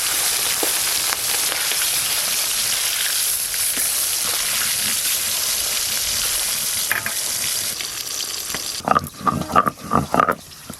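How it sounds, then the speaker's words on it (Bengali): Pieces of catla fish rubbed with salt and turmeric fry in very hot oil, giving a dense, loud, steady sizzle that runs unbroken. Near the end come several sharp clatters and spatters. "মাছের পিসগুলো ভেজে নেব এবার।"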